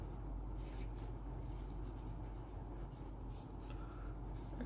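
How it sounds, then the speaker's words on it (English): A gold-nibbed Lamy 2000 fountain pen scratches softly across paper in short, faint strokes, quiet rubbing under a steady low background hum. "since I'm writing right on the top of the pen, I'm able to see the nib"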